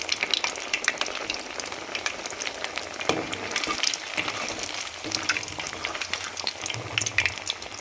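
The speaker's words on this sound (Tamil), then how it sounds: "கடலை மாவு அதனால் கொஞ்சம் கடலை எண்ணெய் அதனால் கொஞ்சம் பொங்குற மாதிரி இருக்குது." Poha vadas made with gram flour frying in groundnut oil, a continuous close bubbling sizzle with scattered crackles and pops that holds steady throughout, with no one speaking.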